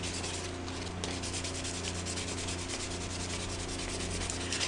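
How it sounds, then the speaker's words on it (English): Sandpaper rubs rapidly back and forth across a plastic Xbox controller shell, a close, loud, continuous scratchy hiss with rhythmic strokes and no talking. "It'll come right out when I sand it."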